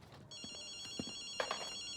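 A telephone rings inside Ghostwire: Tokyo, a high, bright electronic trill that starts a moment in and holds, faint under soft scattered clicks and footstep-like knocks.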